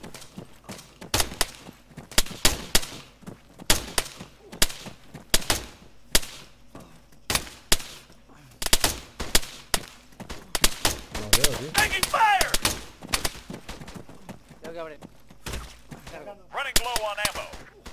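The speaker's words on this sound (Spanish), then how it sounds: "Escucho disparos." Repeated gunshots during a ranger military operation, sharp cracks in irregular bursts, some close and loud, others fainter, with shouted voices and radio chatter in between.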